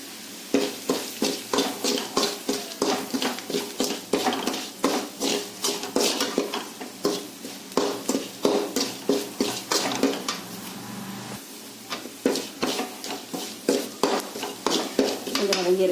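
A spoon stirs garlic and spices frying in a pan with steady, rhythmic scraping strokes, roughly two per second, close and clear above a soft background sizzle.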